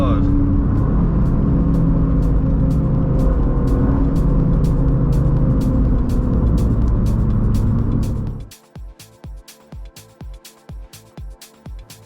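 A car drives the Nürburgring, its engine roaring loud and steady for about eight seconds before dropping away. A rhythmic series of short clicks and thumps follows.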